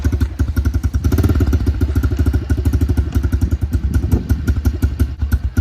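Honda 110 motorcycle engine idling up close, a rapid, slightly uneven chugging pulse with clattery mechanical knocks, loud and continuous with no talking.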